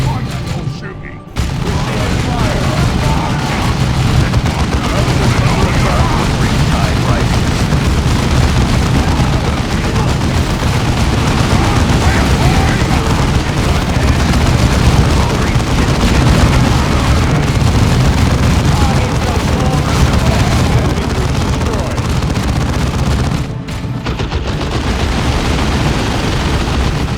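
Gunfire and explosions in the sci-fi strategy game Warhammer 40K Dawn of War 2, a loud, sustained din of booming blasts and rapid shots that runs nearly nonstop, with brief unit voice lines mixed in.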